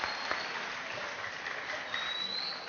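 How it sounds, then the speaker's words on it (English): Audience applause at a library debate event, a steady broadband clatter of many hands clapping throughout, moderately loud and continuous with no voices over it. "Give Mr. Patterson a round of applause"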